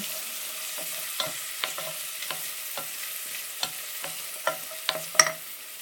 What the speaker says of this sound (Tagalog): And we need to put this onion.